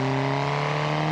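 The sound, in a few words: car engine revving in video game BeamNG.drive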